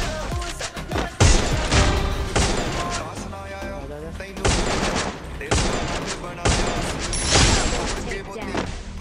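Gunfire in the mobile battle royale game Garena Free Fire, with dense repeated shots, rapid bursts and heavy impacts running throughout, loud and close, alongside other game effects.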